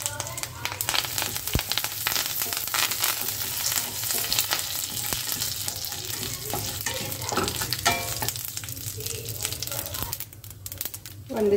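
A temple-style palya tempering sizzles and crackles in hot oil as dry chillies and curry leaves go in, a continuous frying hiss with stirring scrapes throughout.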